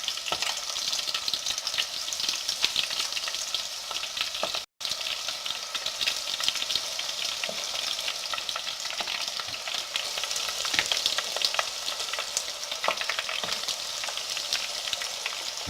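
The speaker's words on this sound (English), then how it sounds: "as you can see, it done start frying real good. So now we can incorporate more fish to it" Catfish nuggets fry in hot oil, a dense continuous sizzle with crackles and pops, steady and close, with a brief break partway through.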